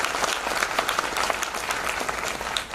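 An audience at a seminar claps steadily, a dense, continuous wash of applause heard close throughout.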